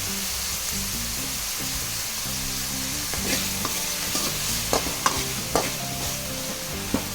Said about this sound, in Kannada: ಟೊಮೊಟೊ ಹಾಕೊತಾ ಇದ್ದೀನಿ ಸ್ವಲ್ಪ ಇದಾಗಬೇಕು